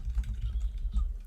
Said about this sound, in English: let me type that chat poll and get that to you guys